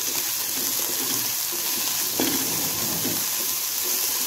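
Ginger garlic paste frying in a little oil for Lahori beef paya, a steady broadband sizzle with a brief louder burst partway through, close and continuous with no talking.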